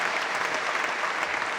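Squash crowd at the British Open applauding steadily for the German number two, a dense, even patter of many hands clapping that stays loud throughout with no break.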